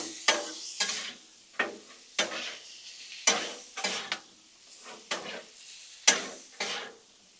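Shrimp fried rice with soy and stir fry seasoning being stirred and scraped with a spatula on a Blackstone griddle outdoors: repeated close scraping strokes in an irregular rhythm over a soft, steady sizzle, no voices.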